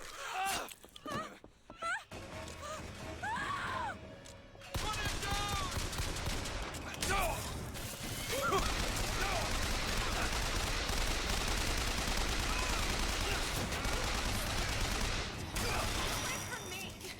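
Shotgun and other gunfire in BioShock Infinite, sharp blasts early on, then a long, dense stretch of continuous battle noise with shouting voices mixed in.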